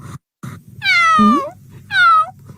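A cartoon cat meows loudly and up close, giving a short cry, a longer drawn-out meow with a rising tail, and then one more meow, with brief quiet gaps between them.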